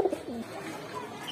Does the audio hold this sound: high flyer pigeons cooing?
yes